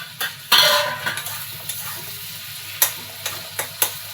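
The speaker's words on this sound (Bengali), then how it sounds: "দিয়ে এটাকে ভালো করে নেড়ে চেড়ে নেব টমেটোটা গলা অবধি" Chopped tomato and chili are stirred in a frying pan while cooking cabbage with prawns, a soft sizzle under scattered clinks and scrapes of a spoon against the pan, several sharp taps spaced irregularly.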